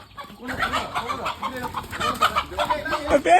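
Free-range country chickens cluck and chatter steadily up close during outdoor cooking, with people talking over them throughout.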